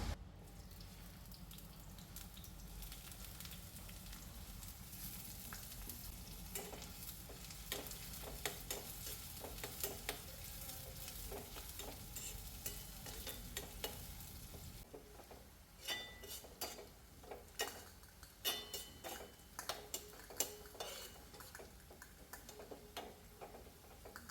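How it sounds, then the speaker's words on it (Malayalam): Onions fry in coconut oil for a tempering, steady sizzle of hot oil through the first half, then softer frying with clattering spoon-and-pan stirring clicks and taps, close and alone without voices. "വെളിച്ചെണ്ണ വയ്ക്കാം ഉള്ളിയിടാം"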